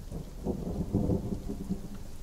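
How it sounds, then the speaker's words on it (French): Steady rain and thunderstorm ambience with low rolling rumbles of thunder under a constant hiss of rainfall, no voices. "Donc vous partez sous cette pluie, sous cet orage."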